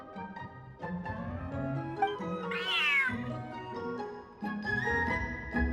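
A big cat in Genshin Impact gives a drawn-out meow that rises and wavers, set against game background music with no voices.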